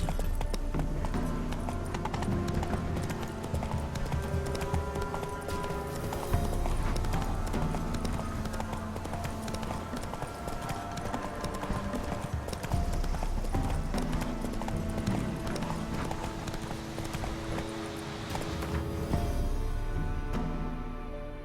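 The horse Roach gallops in a video game, a rapid, continuous clip-clop of hooves running steadily over layered game music and ambience, with an occasional faint whinny.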